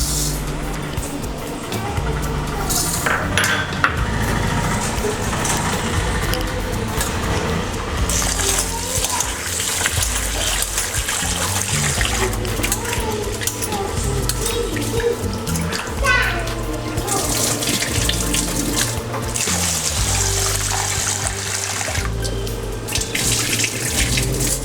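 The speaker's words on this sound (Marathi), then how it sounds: "प्रथम आपण तांदूळ धुवू." A kitchen tap runs steadily while rice is washed before making Diwali chakli, with water splashing continuously and loudly up close. Faint background sounds sit under the flow.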